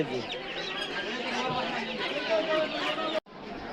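Native chickens and roosters cluck and chatter at a busy duck and chicken poultry market in Savar, Bangladesh, a dense steady crowd of bird calls mixed with market voices, ending abruptly.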